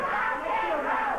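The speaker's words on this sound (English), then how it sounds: "Crowd chanting rock and roll at him." Wrestling crowd at a 1989 CWA Memphis arena show chanting in unison, a dense, sustained roar of many voices with a rising and falling melodic contour filling the hall.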